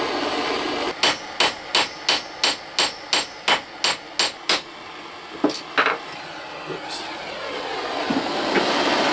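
An old drill bit shank is hammered flat into a knife-style cutter with about a dozen sharp, evenly spaced metal-on-metal blows, close and loud. A couple of scattered strikes follow, then a steady background hum.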